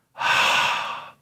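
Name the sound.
forceful exhale, breathing demonstration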